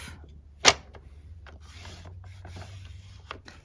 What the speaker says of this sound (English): And so we are going to score this piece.